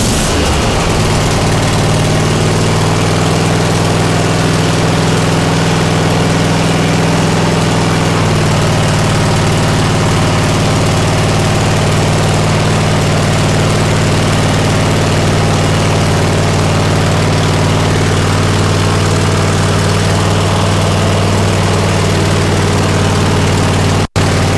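A riding mower engine with the choke on runs at a loud, steady idle, a deep low rumble with constant vibration that settles slightly in tone partway through and holds for over twenty seconds.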